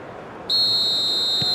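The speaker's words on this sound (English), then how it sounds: "there goes the final whistle" Final whistle from the referee in eFootball PES 2021 during a Brazil versus Portugal match: a single loud, steady, high whistle held for about a second over low crowd noise.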